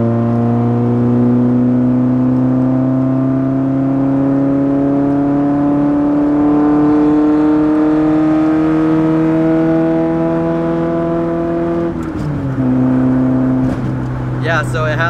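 Nissan 240SX with blast pipes exhaust held at high revs, a loud steady raspy drone climbing slowly in pitch, then dropping off sharply near the end, with someone speaking.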